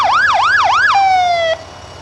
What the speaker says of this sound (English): I think the sirens and horns work on these trucks quite well.